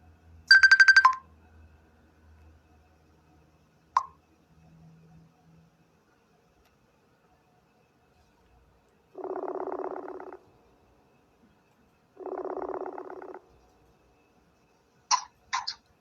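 A telephone rings during a call-in political analysis broadcast, giving two short bursts of a ringtone at moderate level separated by quiet, with faint electronic chirps at the start and end.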